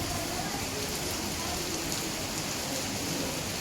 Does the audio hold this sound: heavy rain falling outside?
yes